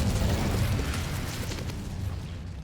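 The Incendio fire spell in Hogwarts Legacy erupts as a loud, deep whooshing roar of flame that swells at once and then slowly fades over a couple of seconds.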